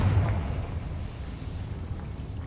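A Confringo explosive spell blast in the Hogwarts Legacy video game: a deep, rumbling boom that swells at the start and then decays into a low, lingering roar.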